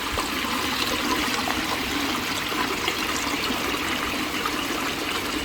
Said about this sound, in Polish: Taki wodospad.